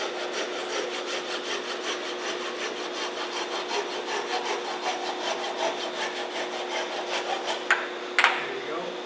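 Wooden mallet spinning on a lathe while a tool scrapes and shapes it: a steady, close, continuous rasping hiss with a faint turning hum, changing tone near the end, with no talking.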